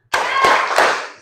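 Classroom group clapping a short 'tepuk semangat' clap chant, three loud near claps in quick succession with a brief ringing tail.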